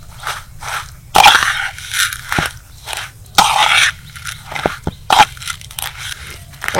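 Thick vermicelli idli batter with sour yogurt, salt and coriander being stirred by hand, giving repeated wet squelching, crunchy scraping strokes in bursts close up, without talk.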